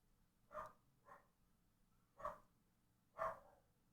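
A guard dog barks four times in the background, short sharp woofs spaced unevenly over a few seconds, fairly faint, with no talking.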